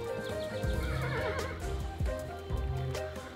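A horse in the video game Kingdom Two Crowns neighs and whinnies over its clip-clopping hooves, with game music and ambient effects running underneath throughout.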